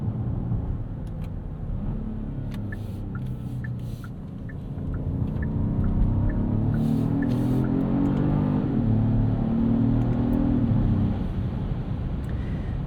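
A 2025 Genesis GV80 Coupe, a 409 hp e-supercharged SUV, accelerates under manual paddle-shift control, its engine note building steadily as a low, continuous rumble inside the cabin with no talking.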